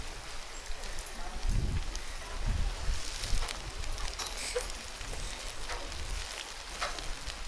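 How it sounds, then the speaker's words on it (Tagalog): Rain falls steadily at an adventure park in Bukidnon, a dense hiss of drops pattering on surfaces with scattered louder splats, fairly soft and close, with a few faint voices in the background. "It's raining."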